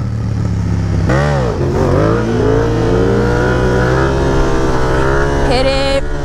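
A motorcycle engine roars loudly and close up as the rider pulls a wheelie using the handbrake, with pitch sweeping up and down through repeated revs and the throttle held high.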